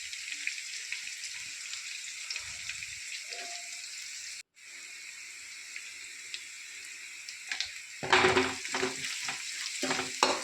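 Onions with turmeric powder fry in a pan with a constant sizzle, brief soft scrapes of stirring, and louder clattering stirring near the end.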